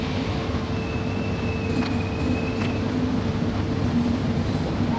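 A passenger train on the Visakhapatnam to Araku Valley line rumbles continuously through tunnels, a loud, even roar of wheels on rails with a faint thin squeal passing briefly.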